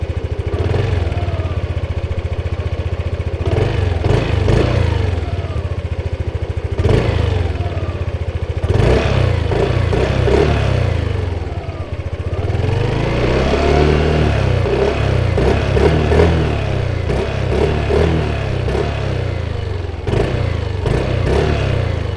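2023 Yamaha XMAX 125 scooter engine idling and blipped several times, a close, steady mid-pitched hum with clattery rises and falls.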